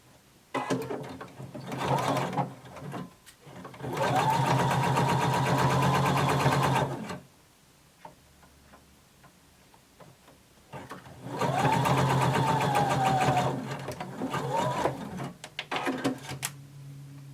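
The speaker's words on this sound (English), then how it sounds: "now we're going to sew our shoulder seam using 5/8 of an inch seam allowance" A sewing machine stitches a shoulder seam at a 5/8 inch seam allowance in two sustained bursts of rapid, even whirring, separated by a quiet pause with small handling clicks, heard close.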